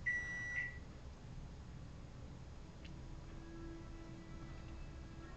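A timer sounds a short, bright electronic beep at the very start, then cuts off, leaving a faint hum in a quiet room; no one speaks.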